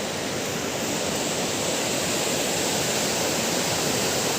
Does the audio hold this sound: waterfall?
yes